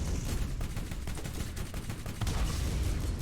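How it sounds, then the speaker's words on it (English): Rapid machine gun fire in a Borderlands shootout, a dense unbroken rattle of loud, close bursts that runs through the whole stretch with no voice over it. "That machine gun just really does not do jack shit."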